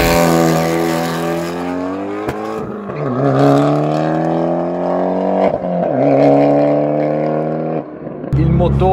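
An Abarth Punto Evo SS with a modified engine revs hard close by, its tone climbing and falling through several rising sweeps with brief dips between, loud and continuous, with talk underneath.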